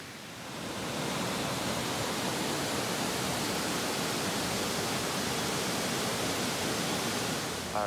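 Sea Creek Falls in North Georgia, a steady, loud broadband roar of falling water that holds constant throughout and has no voices over it.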